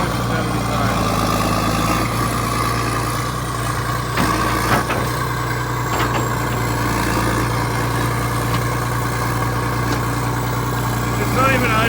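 A John Deere 790 excavator's engine runs steadily at low revs while the machine digs, with a constant low drone and occasional clanks from the work, and voices talking over it.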